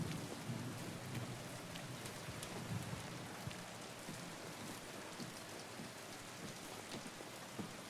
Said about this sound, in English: Living in the desert, I do miss the sound of rain.